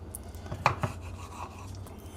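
A knife slicing through sausage on a board makes a couple of short, close cuts and taps over faint background noise.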